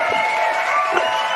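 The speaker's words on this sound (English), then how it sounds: "And one more round of applause." Audience applause and cheering at a live event, a brief dense wash of clapping and shouts, steady and fairly loud throughout.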